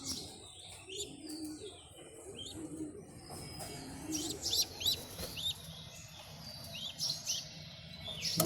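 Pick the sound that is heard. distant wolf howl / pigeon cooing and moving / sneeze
pigeon cooing and moving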